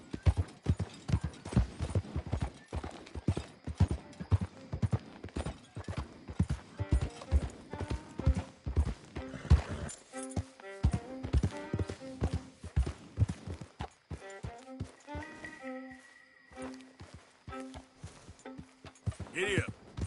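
Horse hooves clip-clop at a steady riding pace in Red Dead Redemption 2, with close, crisp rhythmic strikes, a brief whinny, and a rider's voice speaking over the hoofbeats.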